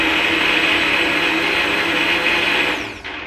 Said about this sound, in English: My soup is inside of the blender, and I'm going to turn it on and just mix it